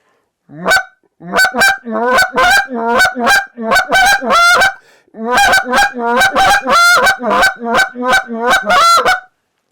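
A Hayes goose call blown in quick, choppy bursts of honks and clucks, loud and close, with one short pause partway through.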